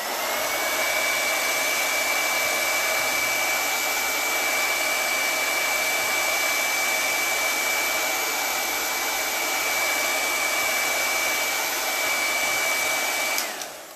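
A hair dryer runs continuously to dry a chalk transfer, a steady, close whirring hum with a high whine that holds for the whole stretch and cuts off sharply near the end.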